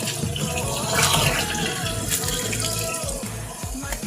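A HOMEY washing machine fitted with a replacement waterproof motor drains its water in a steady, close rushing and gurgling flow that continues throughout without speech.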